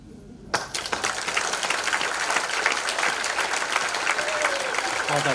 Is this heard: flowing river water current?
no